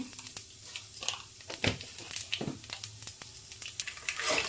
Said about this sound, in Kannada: ಸೀದು ಹೋಗಬಾರ್ದು ಆ ರೀತಿ ಫ್ರೈ ಮಾಡ್ಕೊಳ್ಳಿ